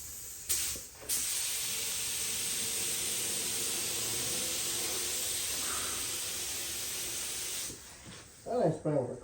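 Spray gun applying primer to a car, a close, continuous loud hiss of spraying lasting several seconds, cut off abruptly, then brief clatter and a voice at the end.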